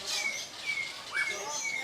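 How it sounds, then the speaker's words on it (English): Metallic starlings, small black birds, call from a bush in a zoo animal park, giving faint high chirps and whistled notes scattered over steady background noise. "Little birds, little black ones. Metallic starlings, top left."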